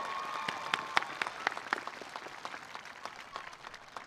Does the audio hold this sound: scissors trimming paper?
no